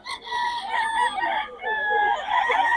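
A chicken at a market in Bocaue crows and clucks nearby in a short, strained call, with a hint of talk in the background.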